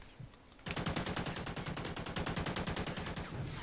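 Rapid automatic gunfire in Call of Duty Ghosts, a loud sustained burst of evenly spaced shots starting after a brief quieter moment and running to the end.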